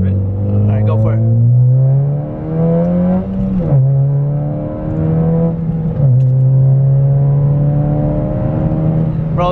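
Loud in-cabin engine drone of a 9th or 10th generation Honda Civic Si pulling hard in sixth gear, rising steadily in pitch with two brief dips as shifts or throttle changes interrupt the climb, with voices audible over it.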